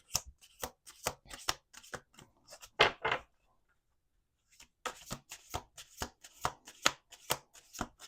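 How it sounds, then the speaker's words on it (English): A deck of playing cards is shuffled in two bursts of crisp riffling and tapping, close and clear, separated by a short pause, with no talking. "Let's do 2 more shuffles."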